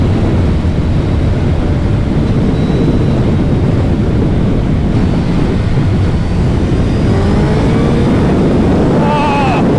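A 2022 Suzuki Hayabusa motorcycle accelerates at three-quarter throttle in second gear, its engine drone steady and loud under heavy wind rush, with the pitch climbing near the end.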